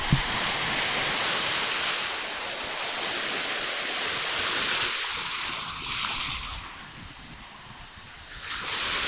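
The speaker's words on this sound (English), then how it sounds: "I'll lower the volume on the waves." Ocean waves roll and wash in a continuous broad surf roar that swells and recedes, loud and close.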